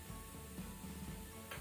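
Masala with jaggery and salt sizzles in a pan as filling for stuffed squid, a soft, steady frying hiss with faint stirring scrapes, quiet and close.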